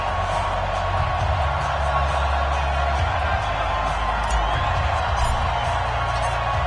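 A sold-out stadium crowd roars steadily in an EA Sports NFL game as the hometown Redskins take the field against the San Francisco 49ers, a broad continuous cheer with occasional whoops beneath commentary.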